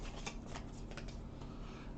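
Quick riffling and rustling of a card deck being shuffled nearby, a few brisk bursts in a quiet room.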